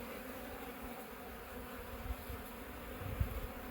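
Honeybees, drones among them, crawl over a heavy hive frame of drawn comb packed with nectar, making a close, continuous buzzing hum with a few louder low bumps near the end.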